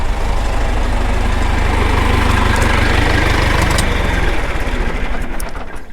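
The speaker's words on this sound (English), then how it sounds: "Let me turn this tractor back off." A farm tractor engine runs close by on a vegetable farm during plastic mulch laying, a loud, steady low diesel idle with dense rumble that fades slightly at the very end.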